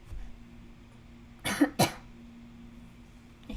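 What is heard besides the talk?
cough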